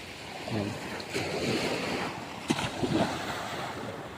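Ocean waves wash and rush steadily around a small fishing boat out at sea during a squid-fishing trip, with wind buffeting the microphone and a dense, continuous roar broken by a few sharper splashes.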